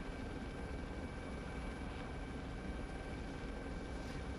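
Steady whirring drone of a slightly damaged video game helicopter's rotor and engine lifting off, constant and fairly faint, with a flat hum throughout and no voices.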